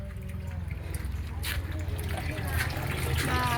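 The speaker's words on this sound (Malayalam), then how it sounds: "ഈ വെള്ളം ഇങ്ങനെ വന്ന് വീഴുമ്പം ആ പതയൊക്കെ അവിടെ വരും" Water splashing and trickling into an aquarium to oxygenate it, a continuous close gurgling pour with bubbling and foam.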